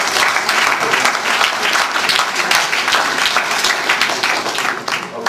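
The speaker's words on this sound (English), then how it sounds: "let us give a big applause to" Loud, dense audience applause following a distinguished lecture on value migration and managing uncertainties, continuous clapping from a packed hall at a steady level throughout.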